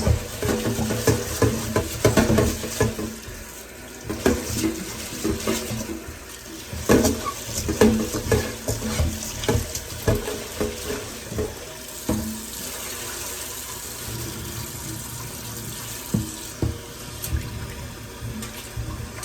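Rice being washed under a running kitchen tap in a sink, a continuous close splashing stream with sloshing and grains swirling in water, uneven surges of flow through most of the stretch and no talking.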